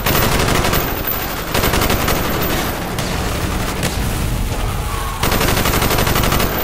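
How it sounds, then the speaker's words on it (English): Dense bursts of automatic gunfire from a Call of Duty Black Ops street battle in Cuba's Bay of Pigs rattle on continuously, loud and close, with overlapping shots from several weapons throughout. "Bowman, Carlos, lay down covering fire"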